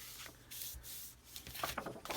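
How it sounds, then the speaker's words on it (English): Scored cardstock for a folio album being folded and creased by hand: soft, close papery rubs and brushing swishes in short strokes, quiet with no talking. "I'm going to fold towards the bumpy side"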